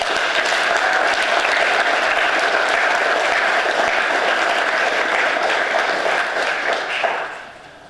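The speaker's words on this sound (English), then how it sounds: "Let's give Mr. Mills another round of applause" Steady, full applause comes from an assembly crowd honoring veteran Mr. Mills at a veterans recognition event. The clapping is loud and even for roughly seven seconds, then fades quickly.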